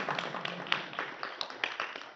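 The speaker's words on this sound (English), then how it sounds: "Big round of applause to Risha." Scattered hand claps from a small audience at a Sunday satsang on Bhagavad Gita lessons, faint and uneven, with a few sharper claps standing out over a brief stretch.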